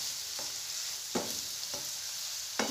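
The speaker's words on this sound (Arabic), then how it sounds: "الطريفات ديال لادند بداو كيطيبو." Turkey pieces fry in a pan with a steady, even sizzle that runs throughout, broken by a few soft stirring knocks. Close up and fairly quiet, with no voices.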